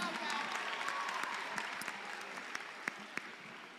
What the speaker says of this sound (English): A round of applause to the teams.